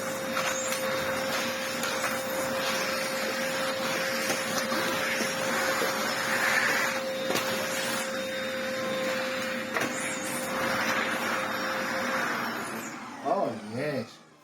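A lightweight vacuum cleaner runs steadily while it is pulled around on wheels, with a loud continuous motor whine and airflow rush, shifting slightly as it moves and cutting off near the end; a person talks over it.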